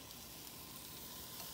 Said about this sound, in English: All right, you hear the sizzle?